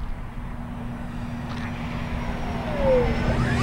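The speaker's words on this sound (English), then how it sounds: "Power coming back in now, so all that was power out." An E-flite Viper 90mm EDF jet RC plane whooshes overhead as power comes back on, a faint broadband rush that swells louder near the end while a rising whine sweeps up.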